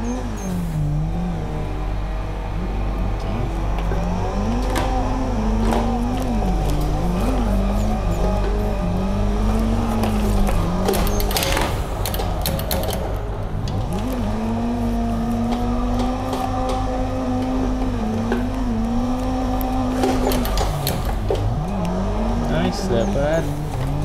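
Car drifting on the Mijen circuit in Semarang, engine revving up and down with rising and falling pitch, tire squeal and bursts of skidding, loud and close throughout.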